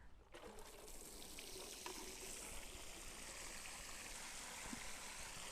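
Buckets of water pour onto garden soil in a planting hole being soaked before setting in a hydrangea, a steady close rushing splash that runs on without a break.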